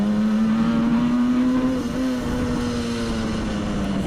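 A 1967 Yamaha YL1-E Twin Jet 100 two-stroke motorcycle engine screams along at steady high revs while riding, a loud, sustained buzzing drone with a slight rise and dip in pitch throughout.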